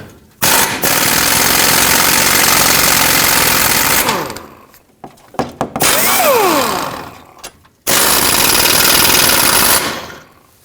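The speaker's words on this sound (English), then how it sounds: "Now with a 14mm socket, remove all three of these mounting nuts." Loud, close bursts of a power tool's rapid rattling hammering as engine mount nuts are removed with a 14mm socket on a 2012-2017 Toyota Camry 2.5L, three long runs separated by pauses and short clicks.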